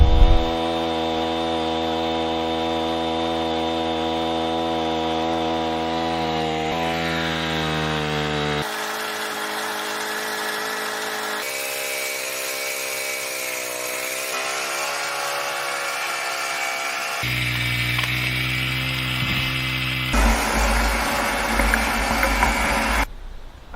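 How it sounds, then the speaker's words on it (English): A PCW3000 winch runs steadily, its motor droning with a strong harmonic hum that shifts pitch several times as the rope drum turns under load, close and loud with no talking. "when the drum is turning, when I pull, the winch lifts in the air"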